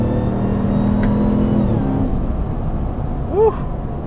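Ram 1500 TRX pickup truck accelerating hard, its engine note a loud steady roar with a rising whine, a short chirp near the end.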